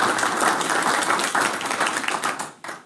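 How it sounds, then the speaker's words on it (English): An audience at a city council meeting claps steadily in a dense, sustained burst that tapers off near the end, fairly close with no talking. "you can clap if you want."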